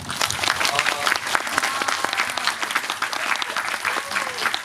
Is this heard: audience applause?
yes